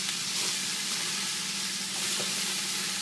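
Onions soften in a hot pan with a steady, close sizzle and frying hiss, broken by occasional scraping strokes of stirring.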